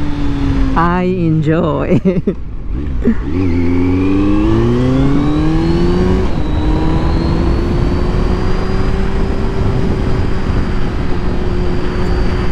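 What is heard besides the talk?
Kawasaki Z900 inline-four motorcycle engine while riding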